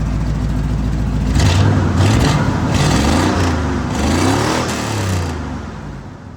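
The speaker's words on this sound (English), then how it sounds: "Here's y'all a little exhaust clip of the Ford" A 1977 truck with straight-pipe exhaust is blipped several times in a row. It rises from a low idle into repeated loud revs that dip and climb close by, then settles back down, and no one speaks.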